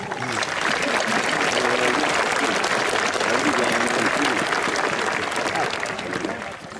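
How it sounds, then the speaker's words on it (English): A large audience at a high school graduation applauds continuously, a dense wash of clapping that holds steady for several seconds before easing slightly, with a few voices mixed in. "Please join me in giving them a round of applause."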